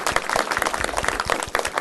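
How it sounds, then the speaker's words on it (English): Applause at a Fullerton city council meeting, a dense steady burst of many hands clapping in a meeting hall, loud and close. "this applause is to you"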